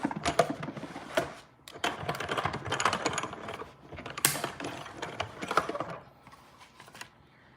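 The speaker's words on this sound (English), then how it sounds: "I'm gonna just quickly die cut that here with my cut and emboss machine" A hand-cranked cut and emboss machine runs a watering can die through, giving steady ratcheting, clicking gear noise in close, continuous passes. There are brief pauses between passes and no talk.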